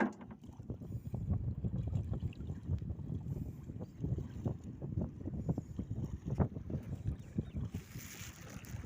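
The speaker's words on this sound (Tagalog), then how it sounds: "Biglang humangin eh. Yan, oh. Medyo maalon na." Steady wind gusting against a fishing boat at sea while choppy waves slap and wash against the hull, a loud continuous rushing with no talking.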